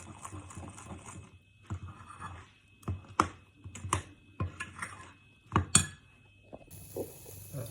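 Lemon fritter batter with leavening is mixed in a bowl, giving soft irregular clicks, clinks and taps of a utensil against the dish at close range.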